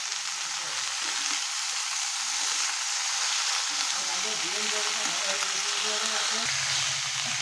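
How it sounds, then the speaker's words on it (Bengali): Potatoes, brinjal and beans frying in oil with steady, continuous sizzling, broken by occasional soft scrapes of stirring, fairly close and even throughout. "আলু বেগুন শিম দিয়ে খুব ভালো করে নেড়ে চেড়ে আমি ভেজে নেব"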